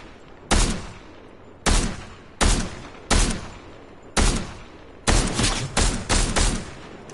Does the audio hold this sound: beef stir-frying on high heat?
no